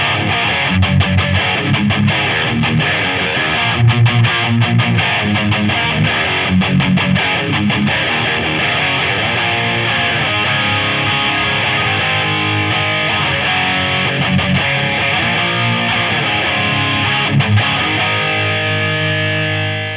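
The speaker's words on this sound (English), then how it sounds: "One of the first pedals to come out in the retrospective era was the Boss DS-1x." Boss DS-1x digital distortion guitar pedal, a modern digital take on the original DS-1, driving a continuous, thick distorted electric guitar with chugging chords and sustained notes that stay loud throughout, with no voices.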